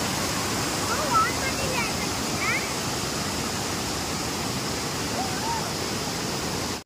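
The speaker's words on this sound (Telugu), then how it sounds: "అసలు ఒకసారి సౌండ్ వినండి, వాటర్ ఎంత ఫోర్స్గా వస్తున్నాయో మీకే అర్థమవుతుంది" A forceful waterfall at Anshi in Karnataka sends out a steady, dense roar of rushing water that holds even and unbroken throughout.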